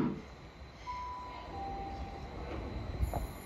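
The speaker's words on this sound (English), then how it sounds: "I'm going to get some, maybe one more clip of a freight train here" A freight train rolls past near Bristol in a steady heavy rumble of wagons, with long wheel squeals rising over the clatter and no one talking.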